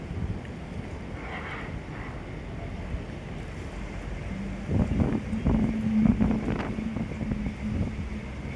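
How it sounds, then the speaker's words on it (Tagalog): Steady roaring wind fills the clip, rumbling and blustery throughout, growing a bit louder and gustier toward the end, with a low engine-like hum joining midway. "Kita mo naman ang lakas ng hangin, no?"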